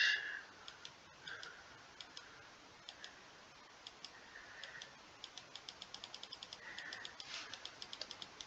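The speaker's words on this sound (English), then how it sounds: "If you hate the sound of clicking, then this video is terrible for you." A computer mouse clicking steadily during a GeoGuessr session, single crisp clicks at first, then speeding into rapid bursts, close and fairly quiet, with no talking.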